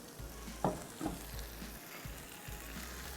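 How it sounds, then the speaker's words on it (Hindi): Chicken frying gently in a pan over very low heat, a soft continuous sizzle with a few light knocks and scrapes of utensils, fairly close and with no voices. "अब इसको आपने बिल्कुल धीमी आंच पे फ्राई करना है"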